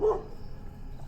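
At a farmhouse, a dog gives a single short bark right at the start, fairly close, followed by quiet outdoor background hum.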